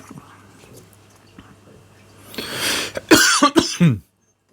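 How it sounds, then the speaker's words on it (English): A man coughs several times in quick succession, loud and close, after a quiet stretch with faint background noise. "why have I suddenly start coughing whenever I got the camera on and start talking?"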